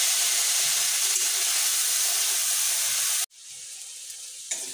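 Ginger, cumin and dried chilli paste frying in oil for a vegetarian soybean curry, a loud steady sizzle that drops abruptly near the end and then resumes more faintly, with no talking.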